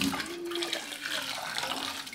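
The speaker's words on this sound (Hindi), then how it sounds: "ठंडा पानी डाल दें" Cold water runs from a tap into a pot of boiled eggs, a steady splashing gush that continues throughout at close range.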